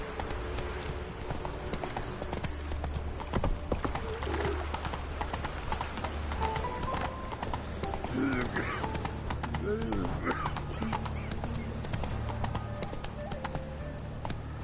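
A horse gallops in The Witcher 3 with steady rhythmic hoofbeats over a low ambient rumble, while a voice speaks briefly and other faint game sounds appear.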